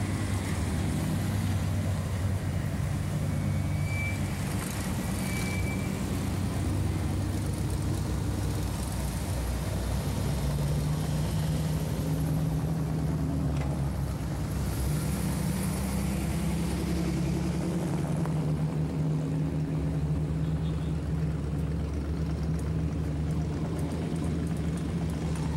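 A 1955 Ford pickup street rod's engine runs at a steady idle, a continuous low, throaty rumble held near and even for the whole stretch, with no talking over it.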